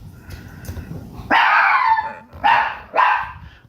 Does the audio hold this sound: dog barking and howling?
yes